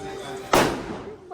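A single sharp firecracker bursts nearby during a home Bhaubij celebration, a loud crack that quickly fades. Voices talk before and after it.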